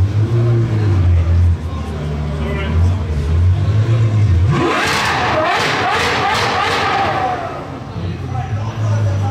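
Novitec-tuned supercar at the Gumball 3000 rally in Nice, France, its engine rising into a loud, rasping rev with rapid crackling bursts above a crowd murmur and nearby voices.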